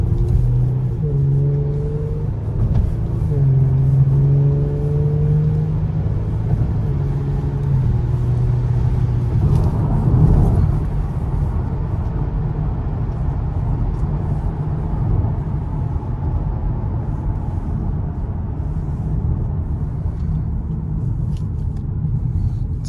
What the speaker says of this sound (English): Let's accelerate.